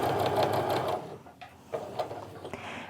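A home sewing machine stitches quilt pieces in a fast, close, rhythmic whir for about a second, then stops, leaving soft handling rustles and light clicks.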